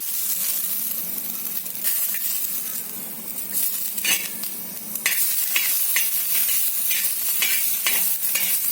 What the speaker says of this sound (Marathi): खोबरं थोडंसं लाल झालं पाहिजे खोबऱ्याला